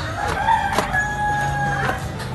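A rooster crows once nearby, a long drawn-out call rising and holding before trailing off, over faint farmyard background noise.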